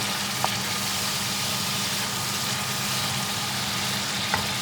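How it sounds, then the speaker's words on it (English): Almond powder roasts in hot oil with a broad, even sizzle, a couple of faint taps from stirring, steady and close throughout with no speech. "That just needs roasting slightly in that oil. Just give it a stir."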